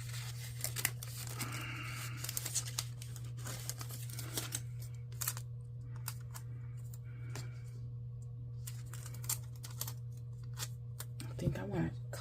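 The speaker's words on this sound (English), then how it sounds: "I think I want to cut this. My scissors are pretty yucky" Scissors snip and crinkle through paper in irregular close-up cuts while planner pages are trimmed, over a steady low electrical hum.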